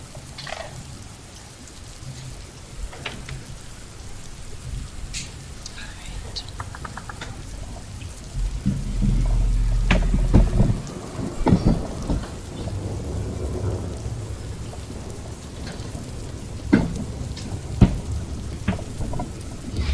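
Rain ambiance with rolling thunder, steady rainfall under a deep rumble building midway, scattered clicks and taps on top.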